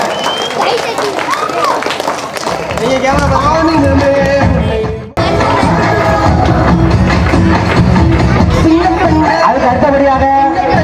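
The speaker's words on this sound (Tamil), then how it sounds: "எல்லாரும் ஜோரா கைதட்டுகிறாங்க." Audience applause at a primary school's fifth anniversary ceremony in Pulimalaipatti, a loud sustained crowd din with murmuring voices running through it, continuous apart from a brief dip midway.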